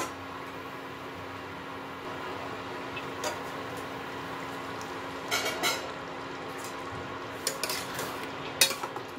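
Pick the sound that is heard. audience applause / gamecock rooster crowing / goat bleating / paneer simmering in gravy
paneer simmering in gravy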